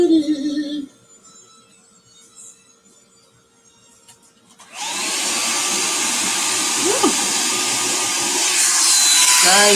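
A dryer blows a steady, loud whoosh across a handmade Christmas card, starting abruptly midway after a quieter stretch with faint tones, then holding a constant close roar to the end.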